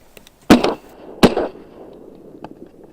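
Two loud shotgun blasts ring out close by during a duck hunt over reeds, roughly a second apart, each with a sharp report and a short echoing tail, then quiet outdoor ambience.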